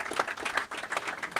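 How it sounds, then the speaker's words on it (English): Audience clapping for Aklein at the YouLead Summit 2024, a steady patter of hand claps at moderate distance, fairly soft and even throughout, with no talk over it. "A good clap for Aklein"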